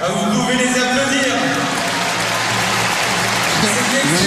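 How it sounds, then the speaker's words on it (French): Audience applause at a live show, a dense steady wash of clapping holding loud throughout, with voices and crowd chatter mixed underneath. "vous pouvez les applaudir"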